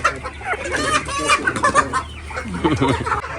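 Chicks in hatchery trays at a desi poultry farm, a dense, continuous chorus of high peeping and clucking close by, busy and overlapping throughout, with some faint background noise.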